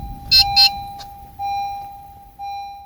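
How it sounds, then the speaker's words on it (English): A 2016-2020 Honda Civic's electronic chime beeps twice in quick succession, then a single shorter beep, over a steady tone and quiet engine hum, during key fob programming. "You will hear a beeping sound."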